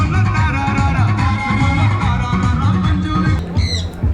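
Loud harsh squawks of a parrot in a stall at the Rajakkad fest ring out over a steady busy background, with bird calls repeating throughout.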